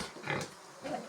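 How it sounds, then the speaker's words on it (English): Pigs at a piggery farm in India, a short close burst of grunting and squealing with two louder swells, no talking. "Right now I'm at the farm, piggery farm. So there are lots of pigs"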